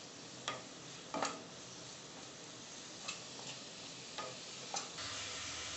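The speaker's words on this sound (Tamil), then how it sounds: "வெங்காயத்தை இதில் போட்டு நல்லா வதக்கிக்கலாம்." Onions, lightly salted, sautéing in a pan give a soft, steady sizzle with a few brief clicks of stirring, quiet and close with no talking.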